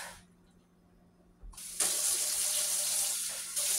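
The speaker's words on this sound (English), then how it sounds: "Let me dump this out and rinse this out." A kitchen sink faucet runs as a bowl of dirty water is dumped out and rinsed; after a quiet start, a steady, loud rush of tap water pours close by and continues to the end, with no voices.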